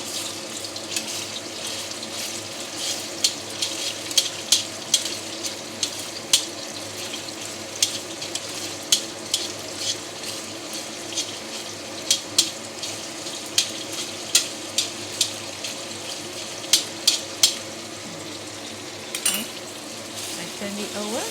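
Minced meat stir-fried in a pan, with a steady sizzle running throughout and a spoon striking the metal again and again in irregular clacks as the meat is broken up.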